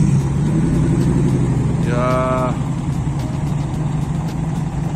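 Car engine running at the Silver State Classic Challenge open-road race in 2023, a steady close drone of a cruising vehicle, with a brief spoken remark in the middle.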